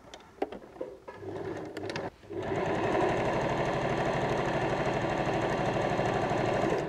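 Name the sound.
sewing machine stitching a bag strap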